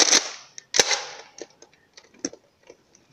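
Nerf Rival Atlas XVI-1200 foam-ball blaster firing indoors, with two loud sharp shots followed by a series of quieter clicks and snaps, each one short and distinct, with no voices.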